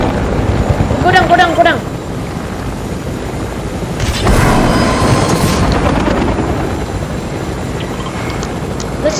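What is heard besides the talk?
helicopter flying in a video game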